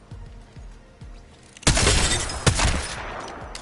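Gun fired in the Apex Legends battle royale shooter, a few soft thuds followed by a loud burst of sharp shots with a shattering crack, close and alone.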